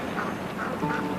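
A hen duck quacks close by, a few rough calls spread over a noisy outdoor background with no talking.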